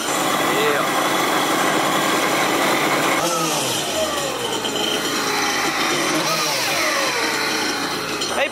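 A jet ski engine runs loudly while being flushed with water, a rough mid-pitched idle that rises and falls in pitch with a few revs, steady and close throughout.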